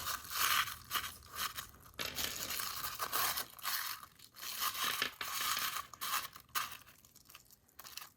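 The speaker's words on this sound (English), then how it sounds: "I'm just going to use some tissue paper and crumple that up and put that down in there." Tissue paper being crumpled up by hand for a small paper craft, a close, continuous crinkling and crunching that comes in bursts with brief gaps.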